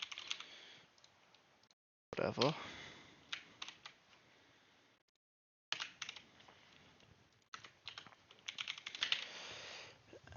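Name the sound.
typing on a computer keyboard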